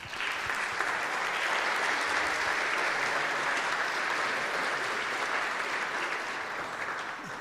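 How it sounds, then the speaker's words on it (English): An audience at a concert applauds the orchestra's founder and music director, giving a steady, even wash of clapping that holds throughout. "Applause, please."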